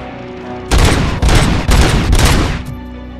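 Heavy gun fired in RoboCop: Rogue City, loud sustained bursts of rapid gunfire in several close, punchy volleys separated by brief gaps.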